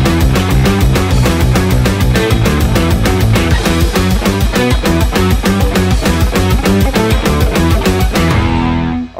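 A loud distorted electric guitar plays an offbeat rock riff with choppy, rhythmic chords, continuous and up close. It stops abruptly and rings out at the end.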